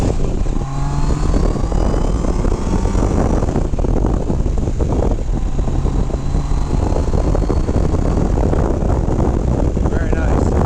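A 1988 Kawasaki ZG1200B2 Voyager XII motorcycle cruising on the road, its steady engine drone heavily mixed with loud continuous wind rush across the microphone.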